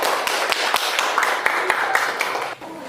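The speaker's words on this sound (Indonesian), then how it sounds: "Tepuk tangan untuk kelompok 1" Elementary school class applauding group 1 after its presentation: children's hands clapping in a quick, uneven patter with sharp individual claps, close and lively, with faint voices mixed in.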